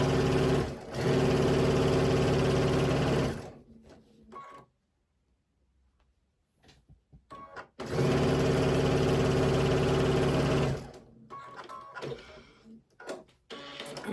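A sewing machine stitches quilt pieces for a dinosaur-print quilt kit, running in two loud, steady bursts of rapid mechanical whirring separated by a quiet pause with light handling clicks, with more brief stop-start runs at the end.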